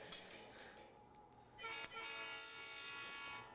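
A person imitates a train whistle with the voice in a home kitchen, a faint sustained tonal toot with a brief rise in the middle, and no other talk over it.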